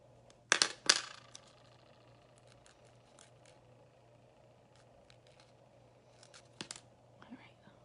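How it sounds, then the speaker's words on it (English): Scissors snip a piece of glitter nail polish strip: two sharp, close clips in quick succession, then near-silence with a few faint light taps. "I do have one piece of glitter here that I want to snip."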